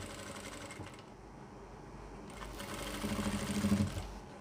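A sewing machine stitches the belt of a pant, a quiet run of rapid mechanical clatter that pauses and then speeds up into a louder burst of stitching near the end.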